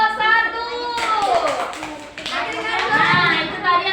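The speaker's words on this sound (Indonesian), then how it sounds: "tepuk tangan untuk kelompok 1" A classroom of students clapping for a group after its presentation, scattered claps under loud, overlapping children's voices and chatter.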